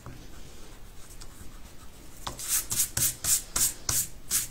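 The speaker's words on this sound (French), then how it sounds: "je vais gommer mes petits repères maintenant" An eraser rubs out pencil marks on a paper card, a series of quick rhythmic scrubbing strokes, close and fairly loud after a quieter start.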